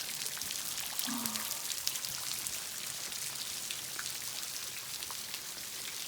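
Steady patter of water falling and dripping on Bolivia's Death Road, a soft continuous rainlike wash with no voices.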